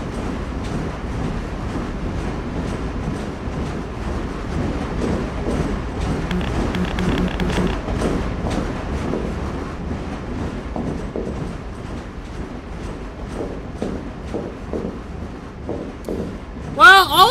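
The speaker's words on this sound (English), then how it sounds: "I can see dangerous trains." Trains in a steam-era video game roll past in a loud, continuous rumble with rhythmic rail clatter, staying close and steady throughout, with a sharper metallic chirp near the end.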